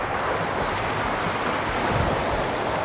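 Waves wash against a reinforced seawall at Baseco Park, making a steady broadband roar of surf mixed with wind buffeting the microphone, with no talk.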